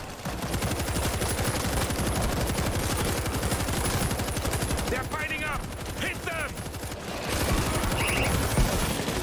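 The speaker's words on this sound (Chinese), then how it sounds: "这重机枪好好用啊！" Sustained heavy machine gun fire from World War Z roars continuously through the whole stretch, loud and dense, with brief zombie-like screeches poking through midway.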